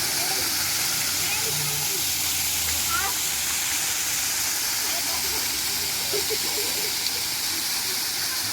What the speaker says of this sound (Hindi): तो यहाँ पे खूबसूरत सा वाटरफॉल मैं आपको दिखा रही हूँ